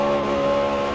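A Forza Horizon 4 car engine held wide open at full throttle, a loud, steady high-pitched drone that stays at a constant pitch for about a second, with no voices.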